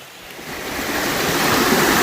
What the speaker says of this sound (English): Figured I'd get a little of the waterfall in the rain.